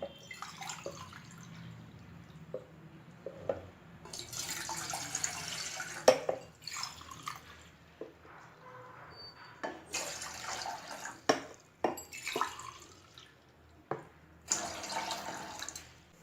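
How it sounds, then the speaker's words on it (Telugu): Three glasses of water pour in several separate bursts into a metal kadai on the stove, splashing and trickling, with quiet gaps between pours. "మళ్ళీ మూడు గ్లాసుల వాటర్ వేసుకోవాలి"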